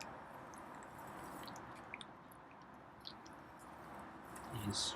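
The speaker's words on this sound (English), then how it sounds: "He's really eating. I can hear him slurp." A feral cat eating and slurping food, faint wet chewing and lapping with occasional small clicks, very quiet and close, ending with a slightly louder shuffle.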